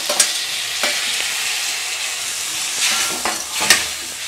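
Four medium tomatoes, cut into small lengthwise pieces, sautéing with salt in a pan over a medium flame, giving a steady close sizzle broken by the soft scrape and knock of a stirring spoon, with no talk.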